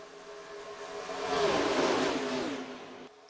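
A stock car in the NASCAR Racing 2003 video game at Daytona sweeps past, its engine drone swelling to a peak around the middle and fading before cutting off abruptly.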